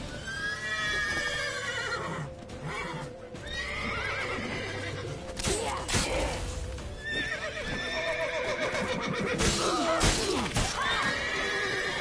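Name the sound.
horse neighing in a video game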